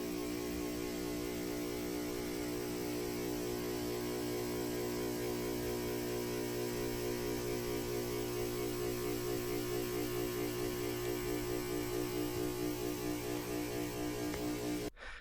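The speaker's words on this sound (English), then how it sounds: "Here are the lights. This is the god-awful sound they made before." A steady electrical buzzing hum from LED strip lights in a garage drones without pause, constant and fairly loud, with a faint pulsing wobble and no voices.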